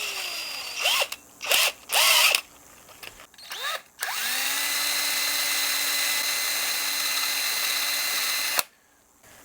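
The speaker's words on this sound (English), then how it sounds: "Let's pop a 2 millimeter bit in our drill and drill us a pilot hole through there" A power drill with a 2 mm bit drilling a pilot hole through a guitar body revs in short bursts, then runs steadily for several seconds before cutting off, close and loud.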